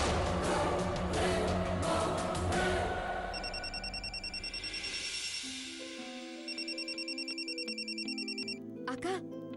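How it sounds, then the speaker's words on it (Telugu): A phone rings with an incoming call, its repeated electronic ringtone pulsing in a steady rhythm over a background of voices and tones in a TV serial scene. "అక్క, అమ్మ ఫోన్ చేస్తుంది."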